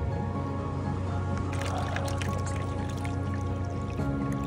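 HAVA R01 compact countertop dishwasher draining water slowly, a steady wet trickle and dripping with a constant low machine hum, close and continuous with no talk.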